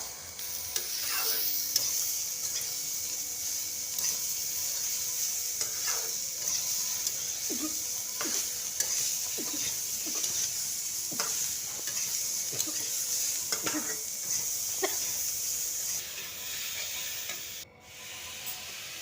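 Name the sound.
stirring cauliflower curry in a frying pan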